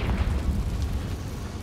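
A Confringo fire spell in Hogwarts Legacy goes off as a deep, rumbling explosion inside a cave. It starts loud and booming, then trails off into a low roar.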